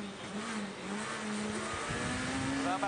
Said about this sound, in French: on s'installe à bord de la voiture de Stéphane Sarrazin